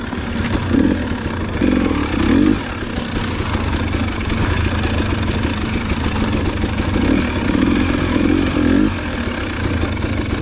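A 2021 Gas Gas EC300 two-stroke dirt bike is ridden along a trail, its engine steady and close with rising and falling throttle swells and mechanical clatter, no voices.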